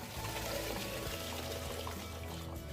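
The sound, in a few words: draining boiled water off mangoes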